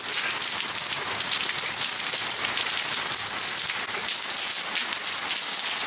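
Rain falling on surfaces during a storm in a village in the Izmir countryside, a dense, constant patter of drops hitting nearby surfaces, steady and fairly loud throughout with no voices.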